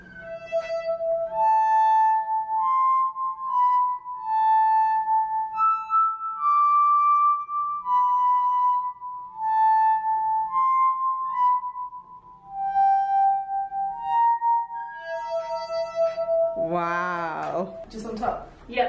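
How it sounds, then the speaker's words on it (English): Glass harmonica playing a slow, eerie melody of sustained, pure ringing tones from a Harry Potter excerpt, one gliding note after another, ending in a burst of speech-like sound. "The glass harmonica was used in Harry Potter, so you'll notice as I play this little excerpt that you'll kind of recognize it."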